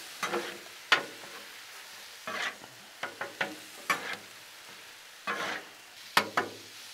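Taco pasta is stirred and scraped on a hot Blackstone griddle, with repeated sharp spatula scrapes and clacks over a light sizzle, close-up and irregular, no one talking.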